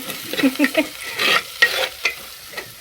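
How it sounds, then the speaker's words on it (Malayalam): A spoon scrapes and stirs masala frying in a pan on the stove, producing a steady close sizzle broken by rhythmic rubbing strokes. "ഞാനിപ്പോൾ മസാല അടുപ്പത്ത് വെച്ചിട്ടേ നല്ല ഇളക്കലിലാണ്"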